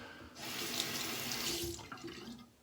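Water runs steadily from a bathroom sink tap for about two seconds, a broad close hiss that tapers off as the rinsing stops.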